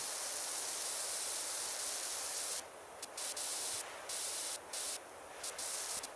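Steady loud hiss of a pressure washer nozzle spraying in the PowerWash Simulator game while cleaning a skatepark, continuous at first, then broken into short bursts as the spray cuts on and off.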